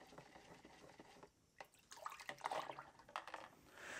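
Water poured into a container to top off a 2-liter batch of ECN-2 film processing chemistry, a soft trickle that pauses, then returns as a louder splashing pour, close by.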